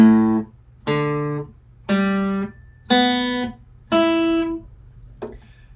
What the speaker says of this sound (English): So, if we pluck all the open strings, it should sound like this.